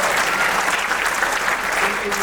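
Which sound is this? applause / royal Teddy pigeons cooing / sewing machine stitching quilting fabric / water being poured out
applause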